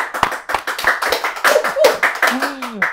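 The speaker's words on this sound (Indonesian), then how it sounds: "cukup tepuk tangan" Studio audience clapping for a talk show host, a burst of uneven hand claps with sharp individual hits, fairly close and loud, with some voices and cheers mixed in across the three seconds.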